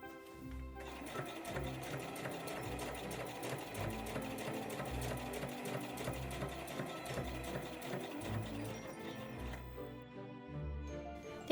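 A sewing machine stitches a fabric case for a 500 ml plastic bottle, running in rapid, even bursts of mechanical whirring and clatter close to the microphone, with brief pauses, and no speech.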